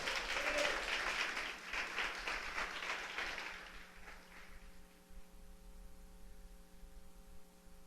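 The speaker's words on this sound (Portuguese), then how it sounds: "Você pode aplaudir o Senhor?" A church congregation claps during a sermon. The applause starts full, thins out over a few seconds and fades away, leaving a steady electrical hum.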